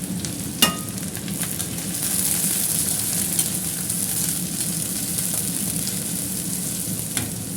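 Spiced masala roasting in a hot pan for paneer bhurji, a steady loud sizzle with occasional stirring clicks and scrapes throughout, no voices.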